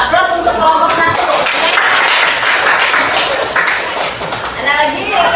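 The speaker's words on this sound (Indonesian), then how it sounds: "aplaus untuk kelompok 1" Classroom applause follows a group's presentation, a burst of scattered clapping from students lasting several seconds, with voices chattering over it.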